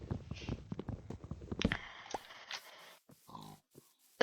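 Pigs in Minecraft give a string of short, close grunting oinks, stacked and overlapping at first, then thinning into a few scattered oinks with brief quiet gaps.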